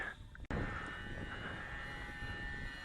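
A scratch-built RC model airplane's electric motor runs just over half throttle, a steady whining drone with wind noise after a brief dropout, heard from a distance and without talking.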